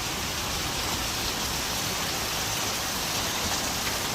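Heavy rain pours steadily outdoors, a dense, even hiss with no pauses that stays loud and close for the whole stretch, with no voices.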